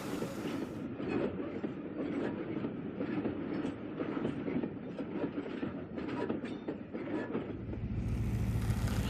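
An aging OO gauge model Class 59 diesel locomotive runs continuously with a rough, noisy mechanical whirr and rattling wheel clatter, steady and close throughout, growing into a louder low hum near the end.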